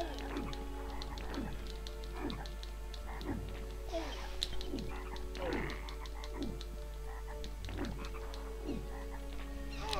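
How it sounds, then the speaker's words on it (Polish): Frogs croak repeatedly in the video game MediEvil, a steady run of deep, throaty calls over a constant low game hum, fairly close and loud with no talking. "A i znowu żaby."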